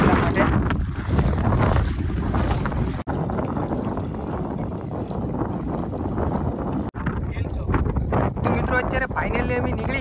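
A small mini boat moves across shallow creek water, with a continuous churning and splashing wash, gusts of wind buffeting the microphone, and a couple of abrupt dropouts in the sound.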